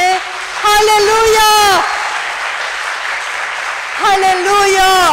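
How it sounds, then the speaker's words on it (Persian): A church congregation claps hands together in a sustained burst of loud applause, with raised voices calling out before and after the clapping. "یک نفر هست که اینجا خدا رو با دست زدن جلال بده"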